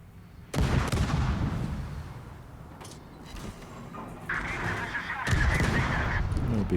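The destroyer Jager's ship guns fire in World of Warships: two heavy booms, one near the start and another later, each followed by a long rumbling tail, with a droning tone in between.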